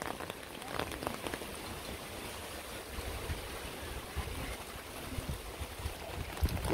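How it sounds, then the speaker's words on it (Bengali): Rain falling steadily in a village, a soft dense patter of drops on surfaces heard throughout, faint and even, with scattered louder splashes near the end. "এই যে সুন্দর বৃষ্টি নেমে গেছে"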